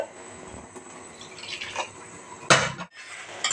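Water poured into a kitchen mixer jar while preparing a Konkani-style crab masala, a close splashing and filling sound with brief glassy clinks and a sharp burst near the end.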